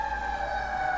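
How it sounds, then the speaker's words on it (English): An emergency siren wails in the background with a steady, held tone, faint and unbroken for about a second. "the siren in the background, it's surely gonna get caught in the video"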